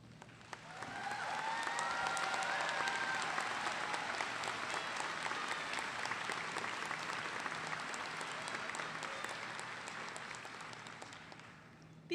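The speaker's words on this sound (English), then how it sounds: "please give them another round of applause" A large graduation crowd in an arena at Kennesaw State University applauds high school faculty and staff. Dense, rain-like clapping swells after a quiet first second, then holds steady and a little distant for about eleven seconds.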